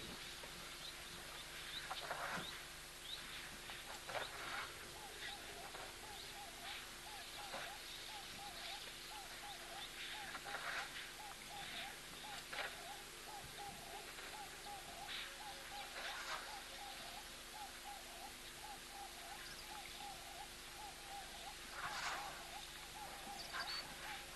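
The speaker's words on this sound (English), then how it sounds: "I can hear what sounds like a dove in the background" Faint, soft bird calls repeat intermittently over a steady outdoor ambience at a waterhole, a dove cooing far off in the background.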